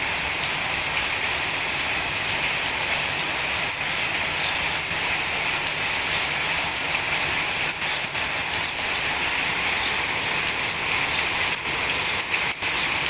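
Steady heavy rain drums on a corrugated metal sheet roof, a dense continuous hiss and patter close by, with no voices.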